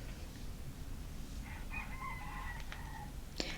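A rooster crows once at a moderate distance, a faint wavering call rising above quiet indoor room noise, followed by a light tap nearby.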